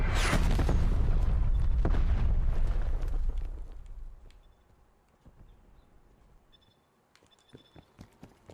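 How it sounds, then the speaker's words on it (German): A grenade explodes in the video game Black Ops Cold War on the Slums map, a loud, rumbling blast that rolls and fades over several seconds, followed by quiet scattered clicks and faint game sounds. "Granate geworfen."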